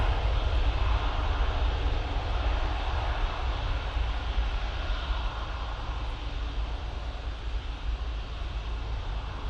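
A Jet2 jet airliner on its way to Antalya roars past in a loud, steady rumble that holds for the whole stretch, with no voices.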